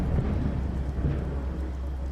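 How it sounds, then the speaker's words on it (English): A deep, continuous rumble of thunder in a storm, heavy and close in the low end, with a faint hiss like rain beneath it and no voices. "It was closely followed by a chest-reverberating rumble of thunder."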